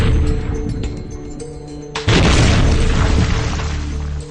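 A single loud cannon shot fired at a target, a sharp booming blast two seconds in that rings out and lingers as a heavy rumble, following a noisy stretch of low mechanical background.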